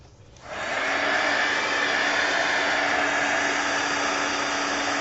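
A hair dryer switches on and blows steadily on decoupage glue, a loud, even whooshing drone with a constant motor hum holding for several seconds, no speech.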